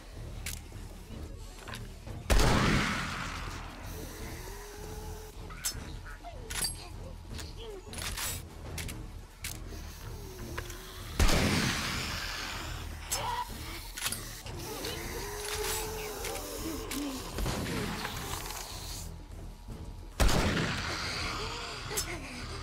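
Heavy gunshots from a gun in a video game, three big booming blasts spaced several seconds apart over a bed of game sounds and occasional talk.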